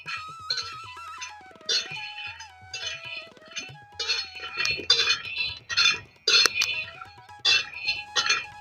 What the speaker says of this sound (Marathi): तव्यात शेंगदाणे टाकून घेऊ शेंगदाणे चांगले कडक भाजून घ्यायचे